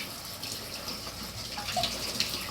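A cucumber is rinsed under a running tap, with a steady close gush of water splashing and spattering as the vegetable is turned under the stream.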